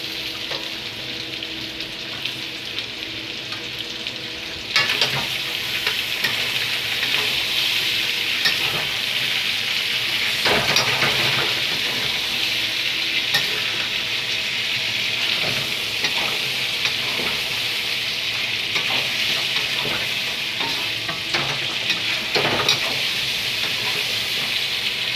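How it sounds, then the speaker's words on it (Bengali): Meat and tomatoes fry in a pan with a constant loud sizzling hiss, swelling after a few seconds and holding steady, with occasional stirring scrapes and knocks over about twenty-five seconds. "টমেটো দিয়ে দিয়েছি। দেখো আমার মাংসটা প্রায় কষানো হয়ে এসেছে।"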